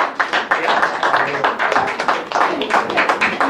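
An audience claps at a charity benefit event for Künstler helfen Kinder, with dense, lively applause made of many overlapping hand claps, loud and continuous throughout.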